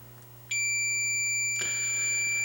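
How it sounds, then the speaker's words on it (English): A steady, high-pitched electronic beep from a tester checking a cable connector starts abruptly and holds continuously, loud and close, over a low background hum. "it will beep"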